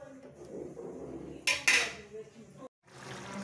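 Close metal clinks and scrapes of a spoon stirring potato, cauliflower and carrot sabzi in a pan, a couple of sharp knocks under a steady background of kitchen noise.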